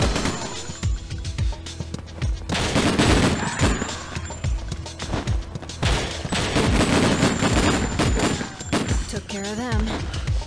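Rapid bursts of gunfire from the video game Breakdown crackle in dense, loud volleys, pausing briefly before more shots, with excited voices talking over the action.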